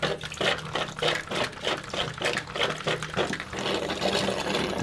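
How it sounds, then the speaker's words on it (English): Water is forced out of an MSR Guardian purifier pump in a bathroom, sloshing and splashing in a rapid rhythmic series of gushes, loud and close, with no talking. "So then I get this guy sealed up and purge the water out of the pump."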